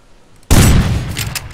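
Gunfire in the video game Rust erupts suddenly as a loud, dense burst of shots that rings on and slowly decays, following a near-silent lead-in.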